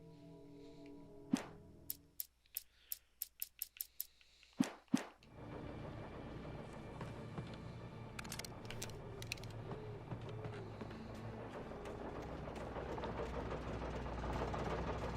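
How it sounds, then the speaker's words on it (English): In Alan Wake, a series of sharp clicks and pulls gives way to a chainsaw engine starting and running steadily, a loud buzzing drone that continues to the end. "That's when I heard the chainsaw."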